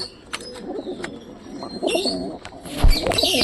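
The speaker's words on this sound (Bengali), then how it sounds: "তো পায়রি তাই ডাকছি, দেখো।" A pigeon coos in soft, low, repeated calls close by, with a few faint chirps and light rustling around it.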